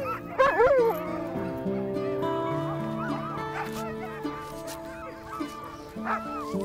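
A pack of sled dogs on the Canadian ice edge barks, yips and whimpers in overlapping bursts, close and lively throughout.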